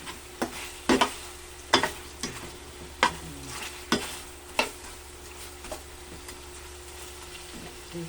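Chicken adobo frying in oil in a pan, a soft continuous sizzle broken by sharp scraping clacks of stirring at irregular intervals, close by with no talk.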